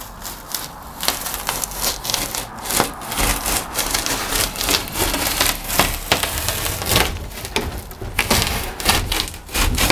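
Wood strips being cut by hand in a workshop give off irregular, close-up rasping and splintering crackles in bursts of uneven strokes.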